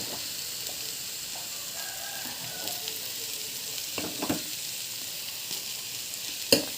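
Tomato rice with peanuts sizzles steadily in a pan while being stirred, a soft continuous frying hiss broken by occasional scrapes and clinks of the spoon.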